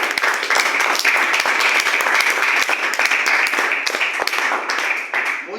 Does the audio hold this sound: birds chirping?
no